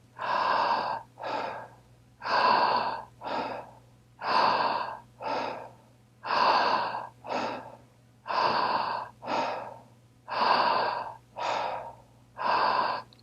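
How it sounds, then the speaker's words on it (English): Deep, forceful breaths for a breathing exercise come in a steady rhythm, with paired inhales and exhales repeating about every two seconds, close and loud with a faint hum beneath and no talking. "Keep breathing."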